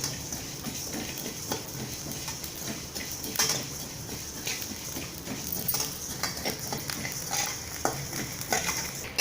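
Dry ingredients for tamarind rice paste are roasted and stirred in a pan, giving a soft continuous sizzle with scattered scraping and clinking of the spoon against metal, close but fairly quiet, without talk.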